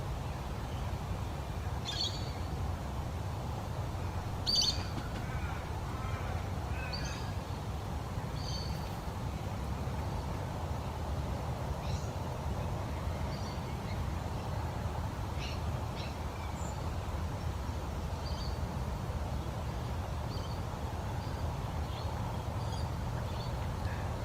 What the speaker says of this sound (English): In one of the recordings, I think you'll hear a crested pigeon